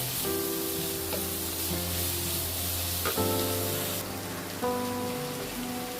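Tomato slices and oyster mushrooms fry in a pan for a Chinese-style dish, giving a steady, dense sizzle like rain on a surface that runs unbroken under sustained musical tones, with no speech.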